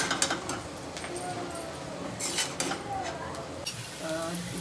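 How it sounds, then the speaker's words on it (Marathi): Leftover chapati pieces for chivda get stirred in a pan, with a continuous scraping, rustling stir and a faint sizzle close by. "आता आपण हे छान हलवून घेऊ"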